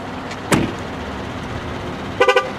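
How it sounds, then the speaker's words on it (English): A Chevy Tahoe LTZ 4X4 chimes after losing detection of its proximity key fob: one short tone, then a quick burst of three rapid beeps, heard outdoors over a steady background hum. "The Tahoe will also chime a few times, letting you know it's lost detection of the proximity key fob."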